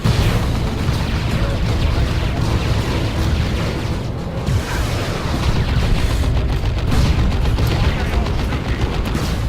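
Battle din from Dawn of War 2 as a Chimera pours lascannon fire: a dense, loud wall of blasts, booms and gunfire rumbling continuously, with voices talking over parts of it.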